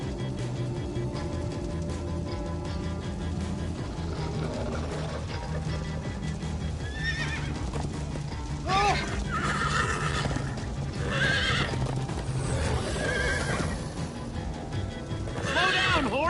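Horses neigh and whinny several times over rapid hoofbeats in Minecraft Story Mode, with layered game music and sound effects running throughout and louder whinnies bunched in the second half.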